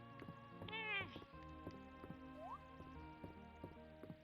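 A cat meows in a video game, a rising, wavering cry near the start set against looping game music with a plinking melody and soft droplet-like effects.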